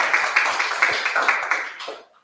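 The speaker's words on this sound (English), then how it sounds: "I think we need to give them a round of applause." A brief round of clapping from the crowd at a website launch event, quick and fairly close, tapering off into quiet within about two seconds.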